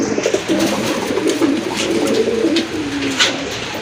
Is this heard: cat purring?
no